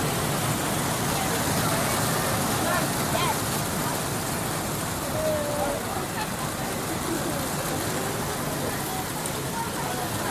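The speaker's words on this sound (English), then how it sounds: "It's raining, man." Steady rain hisses down at an outdoor dinner in Jamaica, a constant wash of noise throughout, with voices and chatter faintly underneath.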